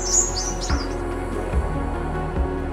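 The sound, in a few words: crimson sunbird call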